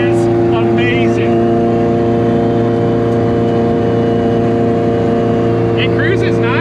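An Acura Integra cruising with its exhaust rerouted under the car, a loud, even engine and exhaust drone that holds steady while people talk over it.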